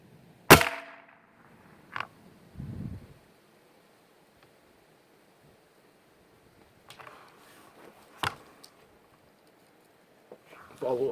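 A sharp, close crack from an air rifle firing a follow-up shot at a squirrel in a backyard, followed by a few softer knocks and rustles spread out over quiet stretches.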